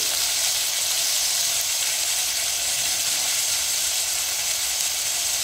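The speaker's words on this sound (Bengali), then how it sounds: "নাড়াচাড়া করে লবণ হলুদ দিয়ে আলুটাকে খুব ভালোভাবে ভেজে নেব।" Potato pieces frying in oil with salt and turmeric: a constant, even sizzle close up with bright hiss, carrying on steadily without pauses.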